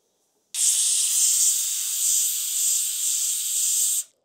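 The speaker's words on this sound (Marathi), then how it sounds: "आपण आता कुकर मध्ये 4 शिट्ट्या करून घेऊ मटनच्या।" A pressure cooker cooking mutton releases a single sustained burst of steam, a loud, high hiss that starts abruptly, holds for about three and a half seconds and cuts off sharply.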